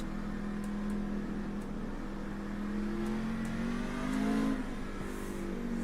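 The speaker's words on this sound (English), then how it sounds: "Give yourself a little bit of a throttle blip as you're doing your downshift." A race truck engine in a racing sim at Lime Rock Park hums at steady revs, then gives a short rising blip of throttle near the end, a smooth mid-pitched drone with no voices over it.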